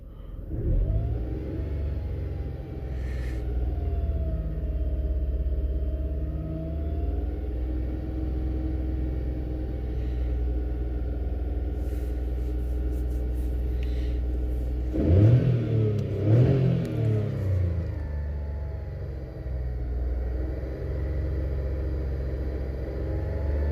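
A car engine runs steadily at idle with a rough rumble, swelling into revs midway and settling again, heard close with no talk, as the engine is checked for a misfire.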